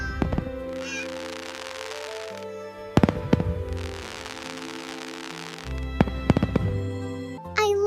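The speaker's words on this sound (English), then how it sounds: "The fireworks are so pretty, Mimi." Fireworks burst on a Lunar New Year (Tết) night, a few sharp bangs and crackles landing over continuous loud music, with no talk.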